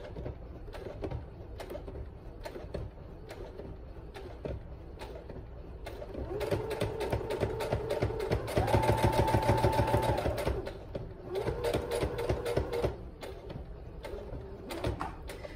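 A sewing machine runs a slow straight stitch along a tote bag handle, its needle ticking in a steady rapid rhythm that swells louder and faster in the middle stretch, close and alone without any talk.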